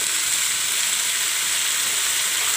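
Broad beans (avarakkai) fry in a hot pan with a loud, steady, close sizzle that hisses without a break.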